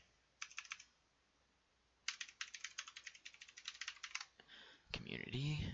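Fingers type on a computer keyboard, first a short burst of clicks, then a longer steady run of close keystrokes; near the end a voice begins speaking over faint background hiss.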